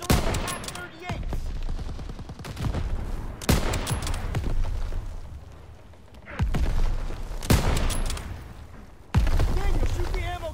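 Repeated bursts of automatic gunfire and sharp impacts in a Call of Duty firefight while shooting at ammo caches, loud clustered volleys returning every couple of seconds under ongoing game audio.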